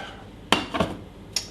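A cooking pan handled on a home stove while making a white sauce for lasagne: one sharp metallic clank, a second rattling knock a moment later, then a brief light clink, close and fairly loud with no talking.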